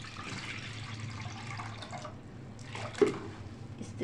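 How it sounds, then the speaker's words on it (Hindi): A coarsely ground mint mixture poured into a wok makes a soft, wet, slushy pour that trickles on steadily, with a small clink or drip partway, close and without talk. "तो इसको हम अब कढ़ाई में डालेंगे"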